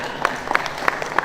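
Audience applause at a gathering of regional officials from Karawang and nearby districts: brief, moderately loud clapping in a few distinct bursts over steady crowd murmur.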